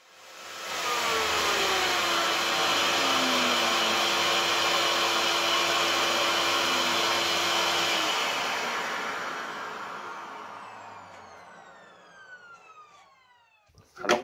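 An Einhell TE-VC 2230 SA wet-and-dry shop vacuum starts up and runs with a loud, steady whine and airflow roar, then spins down gradually before a couple of knocks at the end.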